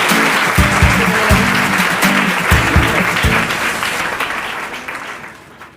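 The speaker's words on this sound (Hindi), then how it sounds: "जोरदार तालियां हो जाए" A studio audience on a KBC quiz show claps loudly and steadily for several seconds before the applause gradually fades away.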